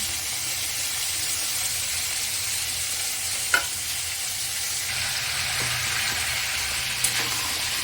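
Ginger paste, ground cumin, coriander, turmeric and green chilli frying in a pan for a mixed vegetable curry, a steady close sizzle with a few soft stirring taps, no talk.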